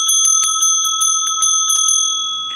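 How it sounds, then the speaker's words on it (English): Small hand bell with a lower tone, rung for sound healing: a rapid series of bright clear strikes repeating about eight times, each leaving a sustained shimmering ring that fades slowly at the end. "So a couple of the other bells that I have three little hand bells."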